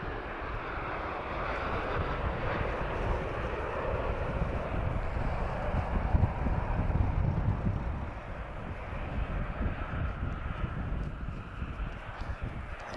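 A TAP Express airliner arrives from Madrid, its engine roar steady and fairly close, swelling briefly midway, with wind buffeting the microphone.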